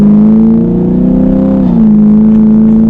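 A 2021 Chevrolet Camaro 2SS pulls away, its engine holding a steady, loud droning hum with a slight pitch dip partway through, heard close and alone.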